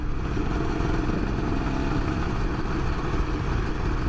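Honda NSR 150 SP motorcycle engine while riding, a continuous buzzing rumble with wind noise, steady in level throughout and with no talking.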